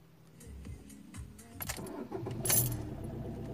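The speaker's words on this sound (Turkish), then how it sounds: "Öncelikle arkadaşlar bir arabamızı çalıştıralım." Keys jangle in a Fiat Linea's ignition before the engine cranks and catches, settling into a low idle nearby with no talking.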